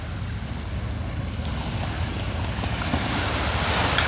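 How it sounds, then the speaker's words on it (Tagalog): Small sea waves wash onto the beach at a seaside resort in a steady, continuous rush of surf, with wind buffeting the microphone throughout and no voices. "Malilit lang alon guys"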